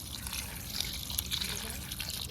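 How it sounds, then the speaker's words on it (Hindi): Cold water poured over freshly cooked green vegetables in a kitchen, a steady splashing, trickling flow running continuously at moderate level for a couple of seconds. "सब्जियों के ऊपर डालेंगे ठंडा ठंडा पानी।"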